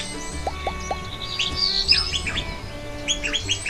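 A songbird sings a series of clear, bright chirps and whistled notes, close and loud over a faint background hum.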